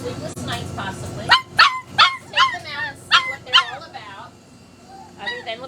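A litter of puppies yipping, barking and whimpering nearby in a burst of high-pitched cries, some overlapping, pausing briefly before another yip near the end.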